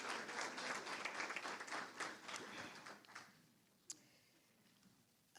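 An audience at an Islip town board meeting applauds honored students with dense, steady clapping for about three seconds, then fades to quiet room tone with one stray tap.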